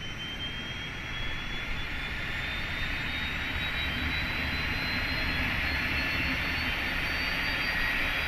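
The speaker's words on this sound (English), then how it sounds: "let's go ahead and start the APU, take a listen" A Boeing 747 auxiliary power unit spooling up in Microsoft Flight Simulator 2020, a steady airy roar with a thin whine slowly climbing in pitch, continuous and fairly close.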